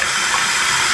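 Water runs from a kitchen tap in a galley as something is rinsed, a steady close hiss with no break.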